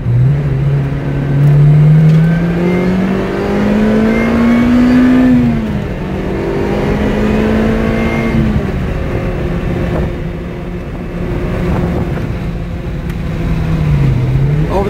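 A 2011 Lotus Exige sports car accelerating, its engine note climbing loud and close through a gear change, then holding and rising again over nearly fifteen seconds.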